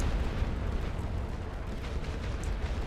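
Artillery shelling in the World War I strategy game The Great War: Western Front: a steady low rumbling roar of distant, overlapping blasts, dense and continuous without distinct individual booms.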